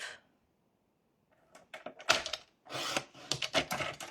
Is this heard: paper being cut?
yes